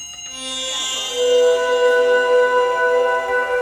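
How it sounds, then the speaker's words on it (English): Soft bright meditation bell tones in Sims 4 new-age music ring and shimmer with long sustained overtones, gently layered, clear and close. "You hear those little tinkling bells? Yeah, so I was using meditation bells in it."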